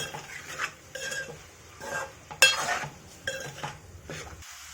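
Spoon clinking and scraping against a pot as chilli powder and salt are stirred into a potato and tomato curry, in short irregular bursts with a sharper metallic clink midway, no talking.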